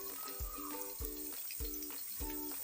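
Garlic and crushed red chili sizzle in a hot pan on a home stove, with a steady frying hiss broken by a regular low thump from stirring, repeated roughly every half second.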